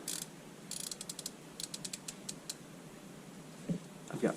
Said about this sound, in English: I've got my torque wrench here, my 1/4-inch torque wrench with my T30 on it, and we're going to torque down these bolts.